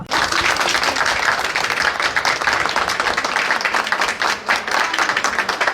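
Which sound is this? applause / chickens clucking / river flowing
applause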